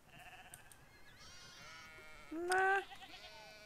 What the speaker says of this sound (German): Es sind aber auch unheimlich viele Schafe